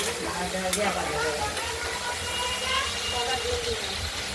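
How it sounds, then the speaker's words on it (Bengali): Sliced ridge gourd is stirred in a frying pan for a poppy-seed curry, giving a steady sizzle with soft scraping that runs throughout, close and moderately loud, while a voice murmurs underneath. "এদিকে এই ঝিঙেগুলো আমরা নাড়াচাড়া দিয়ে নিচ্ছি"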